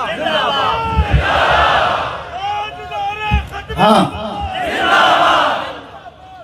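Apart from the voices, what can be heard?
crowd chanting religious slogan Nara-e-Takbeer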